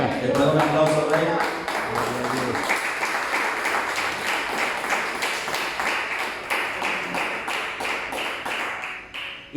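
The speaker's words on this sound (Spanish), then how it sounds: "¿Le puedo dar un aplauso al Rey?" A church congregation applauds during an evening service, an uneven burst of hand claps that starts with a brief voice and settles into steady, rhythmic clapping that fades near the end.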